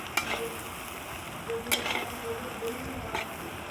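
Egg curry stirred in a pan, giving a steady close sizzle with a few soft spoon scrapes and clinks spaced across a few seconds, no voices.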